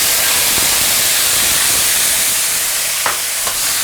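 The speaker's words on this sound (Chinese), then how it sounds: "再用最大的火先给它炒一下，把番茄的果胶给炒出来" Diced tomatoes stir-frying in hot oil in a wok over the highest heat, giving a loud, steady, close sizzle and hiss with a couple of brief scraping stirs near the end.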